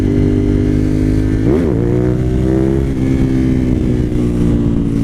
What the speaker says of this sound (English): I rode that one out to the rev limiter